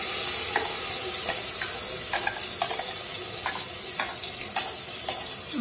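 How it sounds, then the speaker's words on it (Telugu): Onions frying in hot oil in a cooker for rajma masala curry, a steady loud sizzle with regular scraping stirs of the spoon against the pot roughly every half second. "ఆయిల్ వేడెక్కాక మనం ముందుగా చేసి పెట్టుకున్న ఆనియన్ చేసి అందులో వేసుకొని ఫ్రై చేసుకోవాలి"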